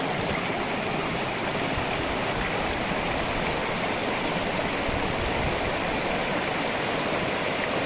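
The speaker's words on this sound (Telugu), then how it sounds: "ఈ వాటర్ ఇటు వెళ్తున్నాయి కదా, ఇవే వాటర్ ఫాల్స్ అవుతాయి అన్నమాట." Mountain stream water rushing steadily toward waterfalls along a trekking trail in Wayanad, a continuous close, loud broadband roar with no pauses and no voices.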